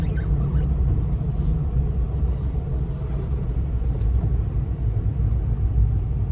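A 1993 Ford Bronco with a newly installed engine being driven, heard as a steady, loud low rumble of engine and road noise that holds constant throughout, with no talking.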